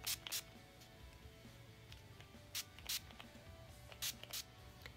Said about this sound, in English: I'm gonna spritz my face with the NYX Matte Finish Long Lasting Setting Spray